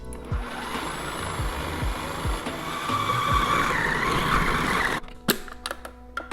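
Blender or food processor whizzing pizza dough ingredients with warm beer, a loud steady whirring drone that runs for about five seconds and then cuts off abruptly, leaving a few faint clunks.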